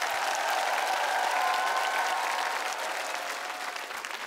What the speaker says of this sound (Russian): Аплодисменты нашим экспертам!